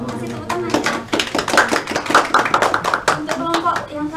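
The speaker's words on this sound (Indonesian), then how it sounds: "Kasih tepuk tangan ya." A classroom audience claps after a group presentation in a geography microteaching class: a small group's sharp, scattered handclaps, close and moderately loud, lasting several seconds with someone talking briefly underneath.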